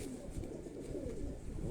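Pigeons of a show breed kept by a fancier coo in soft, low, repeated murmurs that run steadily through the whole stretch, close by with no talk over them.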